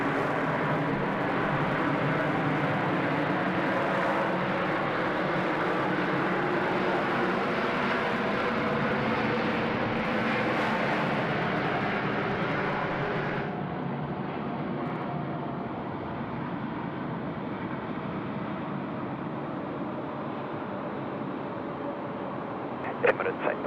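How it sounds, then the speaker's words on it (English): An Emirates Airbus A380 at Sydney Airport rumbles with a broad, steady jet roar that holds loud, then thins and fades midway to a quieter hum; talk is heard over it. "one Emirates A380 in"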